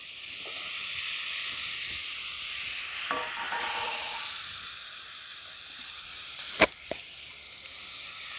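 Carrots and beans sizzle steadily in a hot pan as they are stirred for a village-style sambar, with a constant frying hiss and a few sharp scrapes and knocks of the spatula toward the end.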